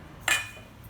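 A single metallic clink as a metal plate is set into a chakli mold, followed by a short ringing decay, then quiet.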